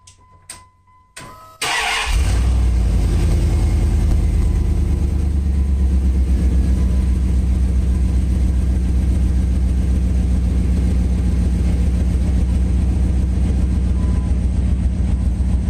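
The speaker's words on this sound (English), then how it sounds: "Alright, start her up." A drag truck engine cranks briefly after a few quiet clicks, catches with a sudden roar, then settles into a loud, steady, rumbling idle that continues unbroken.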